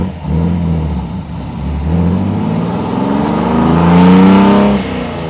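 A 1957 AC Ace Bristol's engine revs loud and close, its steady low drone swelling and climbing in pitch toward the end before easing off.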